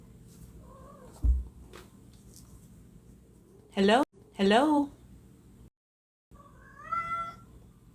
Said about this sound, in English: There's my cat right on schedule.